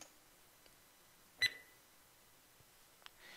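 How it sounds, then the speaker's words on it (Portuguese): A single short electronic beep sounds once amid near silence, followed later by a couple of faint clicks. "Aqui dentro eu tenho dois arquivos de áudio, o Bip Short, deixa eu executar ele aqui."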